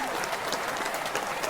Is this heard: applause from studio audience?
yes